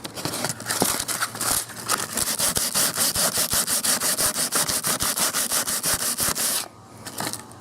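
Sandpaper scrubbed by hand over the old finish on a Bahco axe, a rapid, steady run of close, loud rasping strokes that stops near the end, followed by a softer pass.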